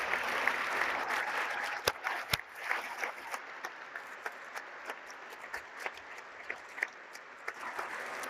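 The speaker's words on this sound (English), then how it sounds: "I wonder if you might join in applauding those around you and thanking" An audience at an annual dinner claps in a scattered, moderately distant way, fading into sparse individual claps toward the end.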